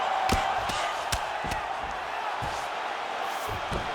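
Crowd roaring in the UFC 5 video game during a women's bantamweight fight, a sustained cheering wash with sharp thuds and whoops, under occasional talk.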